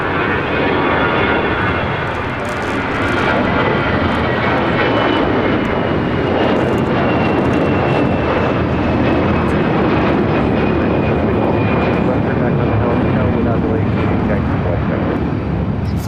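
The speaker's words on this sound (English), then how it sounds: "Take off from the airport." An airliner takes off from LAX with a loud, sustained engine roar that fills the whole stretch. Its high whine slowly falls in pitch, and voices speak faintly under the noise.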